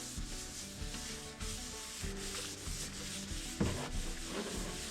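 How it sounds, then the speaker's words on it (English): Close, steady rubbing of a cloth wiping paint solvent over a freshly sanded wooden window work bench, a continuous soft scrubbing with repeated strokes and no voices. "I'm just going to rub some paint solvent on it now just to make sure I get all the dust off it."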